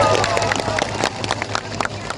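Large crowd at an outdoor campaign rally in Lampung applauding and cheering, continuous dense clapping mixed with crowd hubbub and scattered shouts, fairly loud throughout.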